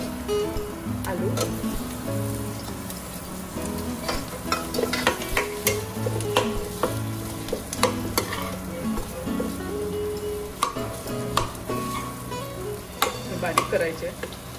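Potatoes frying with onions and chilies for vada pav, an even sizzle under repeated clinking, scraping stirs, with a hum and background sounds underneath.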